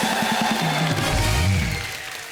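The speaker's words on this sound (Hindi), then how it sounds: "मिजान और शारमिन के लिए जोरदार तालियां हो जाए" Studio audience on The Kapil Sharma Show applauds for guests Mizaan Jafri and Sharmin Segal, a dense steady wash of clapping layered with music that fades slightly at the end.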